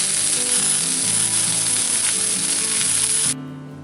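Venison kielbasa sizzles and fries in a pan, a steady loud crackling hiss that cuts off abruptly near the end, leaving a faint hum.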